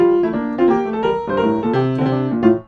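Bar 62 of a Bach fugue from The Art of Fugue played with every sixteenth note swung, a steady keyboard-like line of sustained pitched notes in an uneven lilting rhythm, close and fairly loud, with no talking.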